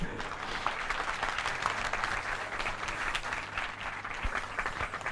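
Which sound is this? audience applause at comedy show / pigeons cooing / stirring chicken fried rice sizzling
audience applause at comedy show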